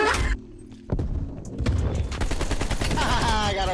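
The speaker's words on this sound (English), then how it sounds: "I got him with the shotgun." Shotgun fire in the Call of Duty Black Ops Cold War beta: a heavy blast followed by a dense, loud burst of gunfire and game effects that runs to the end.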